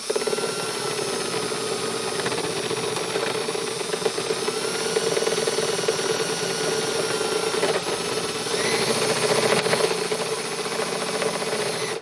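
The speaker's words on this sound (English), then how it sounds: "cut a hole in it with the Forstner bit" Forstner bit drilling a hole through a piece of scrap plywood to make a guide, heard as a steady, loud machine whine and hiss running continuously with no speech.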